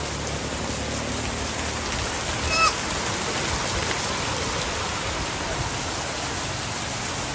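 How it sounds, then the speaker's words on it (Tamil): Heavy rain pouring down on Pazhanchatti Street in Adirampattinam, a dense, steady roar of rainfall on the road and surfaces that holds evenly throughout, loud and close, with no talking over it. "இன்று சரியான மழை பெய்து கொண்டிருக்கின்றது அதிராம்பட்டினத்தில்"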